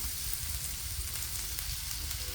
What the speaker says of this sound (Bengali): ঘিটা গরম হয়ে গেছে। এবার আমি এতে গাজরগুলো দিয়ে দিচ্ছি